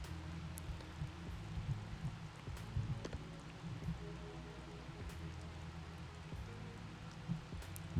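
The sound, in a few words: light rain in the sailing video game Sailwind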